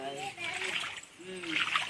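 Water splashing as it is pushed along a floor, soft wet sloshes and splatters recurring under children and adults talking nearby.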